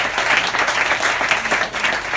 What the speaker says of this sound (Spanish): Bueno, aplaudimos porque no me ha aplaudido nadie.